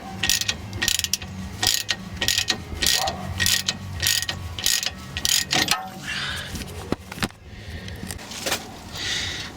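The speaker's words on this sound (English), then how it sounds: "I'm gonna grab another wrench and tighten that up now" A crescent wrench ratchets as it tightens a tie rod on a 2007 Dodge Ram 1500 Laramie, giving rapid clicking bursts close by with short pauses and metallic clanks between them.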